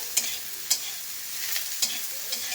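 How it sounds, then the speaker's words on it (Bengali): Soybean chunks fry in a pan, giving a bright, continuous sizzle, while a spatula clicks against the pan in a few distinct strokes. "এবার আমি সোয়াবিনটা বেশ একটু ভালো করে ভেজে নিলাম"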